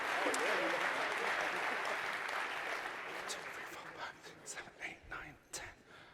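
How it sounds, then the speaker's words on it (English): A conference audience applauds volunteers with a full burst of clapping that fades over several seconds into scattered claps and murmuring voices. "Big round of applause for all of our volunteers."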